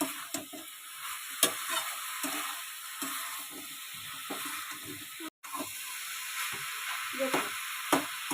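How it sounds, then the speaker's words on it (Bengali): Banana flower mixed with lentil fritters being stirred in a pan: quiet sizzling under irregular spatula scrapes and taps, close and fairly faint, with a brief dropout midway and no speech. "নাড়তে নাড়তে আমি এবার যে বড়াগুলো করে রেখেছিলাম এই বড়াগুলো আস্তে আস্তে মোচাতে আমি দিয়ে দেবো, দিয়ে এগুলো একসঙ্গে মোচার সাথে নাড়তে থাকবো।"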